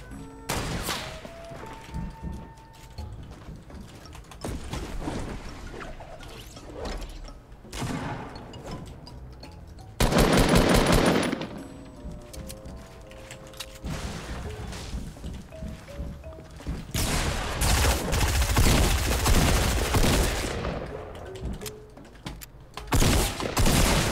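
Gunfire from a new weapon in the video game Fortnite: repeated bursts and single shots ring out loudly over game sounds and background music, with occasional impacts and crashes between volleys.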